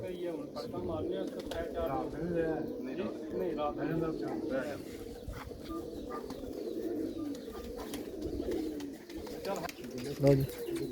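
A racing pigeon coos in repeated close, warbling calls while people talk nearby.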